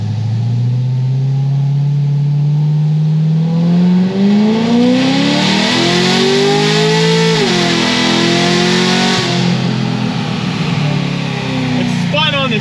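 Stage 3 Corvette C6 Z06 accelerating hard, its engine note climbing in a loud rising drone, briefly dropping at a gear shift where the wheels spin, then pulling up again; a voice talks over it.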